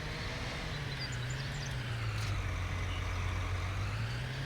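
A tractor engine in Farming Simulator 19 gives a constant low drone with a soft, unchanging hiss over it, faint and steady throughout.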